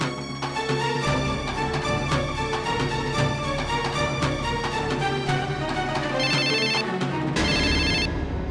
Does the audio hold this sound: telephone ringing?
yes